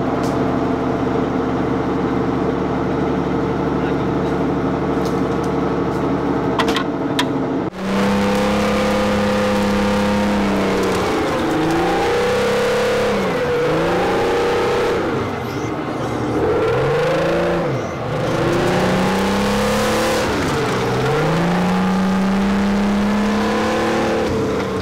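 Military evacuation vehicle driving out to recover dead and wounded soldiers, its engine droning and revving in repeated rising and falling surges, loud and continuous after a quieter opening.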